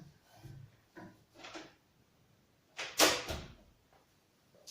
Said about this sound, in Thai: ปิดประตูห้องก่อนค่ะเดี๋ยวเสียงมันจะเข้าเนาะ